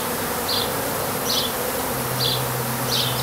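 Honey bees in a top bar beehive hum as a steady insect buzz throughout, with brief louder passes of individual bees near the hive and a faint low drone underneath.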